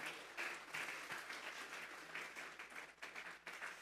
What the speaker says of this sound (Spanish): Vamos a darle una ofrenda de palmas a Dios en esa hora.